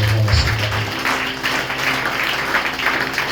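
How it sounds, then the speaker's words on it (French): A congregation at an all-night church prayer vigil applauds: a dense, steady wash of clapping runs for several seconds over sustained low instrumental tones. "Applaudir madame."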